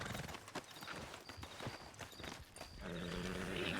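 Video game horse hooves clip-clop steadily through a ride, fairly close and continuous, with a faint voice in the background.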